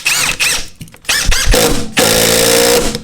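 A Metabo HPT 18V sub-compact brushless cordless impact driver drives 2.5-inch construction screws in several loud bursts, whining and hammering, with short pauses between the runs.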